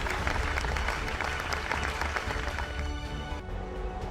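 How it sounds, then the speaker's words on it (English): A crowd at the Global Teacher Award 2020 ceremony applauds the award winners with loud, dense, sustained clapping that fills the room for about four seconds before thinning slightly at the end. "Give them a huge round of applause."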